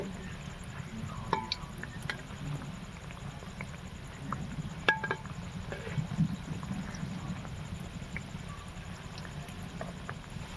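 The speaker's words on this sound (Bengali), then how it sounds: "এই হালকা অবস্থায় কচুরিগুলো ছেড়ে দেবো।" Potato khasta kachori frying gently in oil over low heat, a soft, even sizzle with occasional small clicks and taps, steady throughout with no talk.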